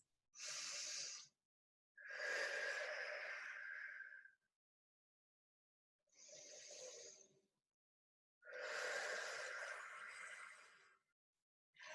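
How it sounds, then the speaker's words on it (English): Deep, slow breaths during an arm stretch, four long airy inhales and exhales separated by quiet pauses, close and soft, with no talking. "2 deep breaths"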